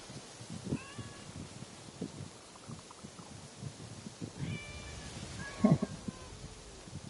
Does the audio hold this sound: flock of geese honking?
no